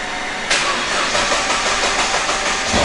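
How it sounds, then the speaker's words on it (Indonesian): A Nissan GTR engine cranks and catches with a sudden burst, then settles into a loud, close, steady idle rumble, with no voices over it. "Oke, kita nyalain dulu. Semoga aja ada bensinnya nyala ya."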